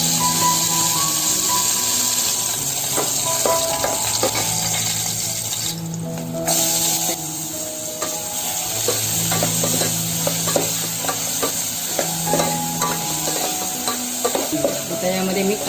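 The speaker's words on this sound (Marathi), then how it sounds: "आता टोपामध्ये थोडंसं तेल टाकून घेते। चिरलेल्या मिरच्या टाकते।" Chopped chillies and onion fry in oil in a cooking pot, giving a loud, continuous sizzle broken by the scrape and clink of repeated stirring throughout, with no voices.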